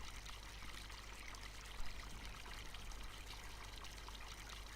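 Steady rushing water flowing to flood rice fields in Farming Simulator 19, a continuous even hiss and trickle at low level with no pauses and no voices.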